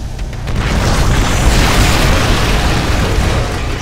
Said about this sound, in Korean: 정거장이 곧 폭발한다